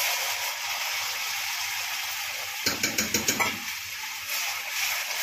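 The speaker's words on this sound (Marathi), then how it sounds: "हा मसाला तेलात फ्राय करायचा आहे आपल्याला" Soft continuous sizzle of ground spice paste frying in oil in a wok, with a brief burst of rhythmic scraping taps from stirring midway.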